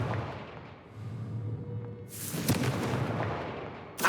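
A Confringo fire spell in Hogwarts Legacy bursts with a sharp, bright blast that fades into a hissing rumble, following a low whooshing charge-up and ending with a second crack.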